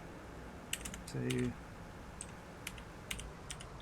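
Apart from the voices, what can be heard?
typing on a computer keyboard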